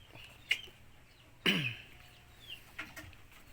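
A gamefowl rooster, a Sweater and black Macre cross, gives a few short clucks and one louder throaty squawk, spaced apart and close by against a quiet low hum.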